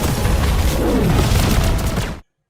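A loud, sustained rumbling blast from an explosion in an animated series roars for about two seconds, dense and booming, then cuts off abruptly into silence.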